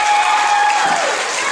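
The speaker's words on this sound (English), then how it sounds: "Give the boys a great round of applause." A crowd applauding the boys at a Simon Says game, a brief dense burst of clapping and cheering that tapers slightly toward the end.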